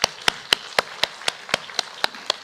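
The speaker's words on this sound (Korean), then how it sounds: "우리 잠깐 일어나시면 우리 박수로 한번 환영하도록 하겠습니다" Church congregation clapping to welcome visiting guests at a year-end worship service, about ten crisp, evenly spaced claps in a brisk steady rhythm, close and clear with no talking.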